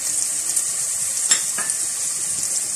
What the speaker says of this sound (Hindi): थोड़ा सा लहसुन अदरक को इसमें फ्राई करने के बाद मसाले डाल देंगे